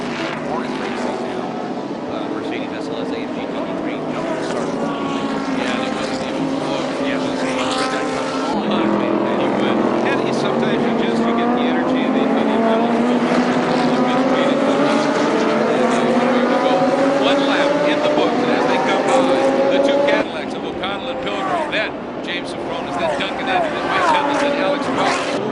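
GT and GTS race cars, including a Mercedes SLS AMG GT3, roar past in close formation during a race at Circuit of the Americas, engines climbing through gears with rising whines, loud and continuous under commentator talk.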